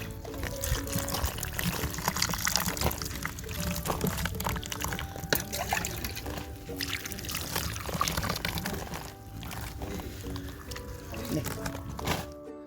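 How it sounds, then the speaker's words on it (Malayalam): Water pours and trickles steadily onto cocopeat while a person talks over it, with occasional clattering handling noises. "വെള്ളം ഒഴിച്ചു കൊടുക്കണം"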